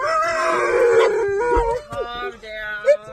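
A husky howling at an outdoor dog park: one long, wavering, fairly loud howl close by, followed by shorter yipping cries and whines.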